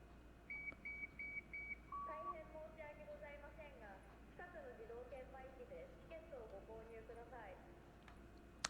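Electronic device in the video game Freak Nasty Friday Fright Nights emitting a string of faint, rapid beeps and warbling chirps that shift in pitch, like garbled machine speech, over a quiet backdrop.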